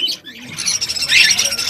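Sirazi pigeons kept in a breeder's loft coo and chirp softly, with brief bird calls and light rustling close by and no one talking.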